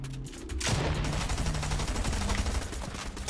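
SMG gunfire in Fortnite, a rapid burst starting abruptly and continuing as dense sustained firing with game effects, fairly loud throughout.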